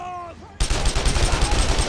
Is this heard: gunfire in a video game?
yes